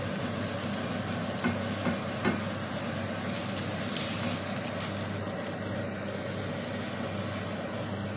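Onion sizzling in a little oil in a pan, cooked before making egg dosa. It gives a steady low crackle throughout with a few soft clinks and scrapes near the start, and no voices.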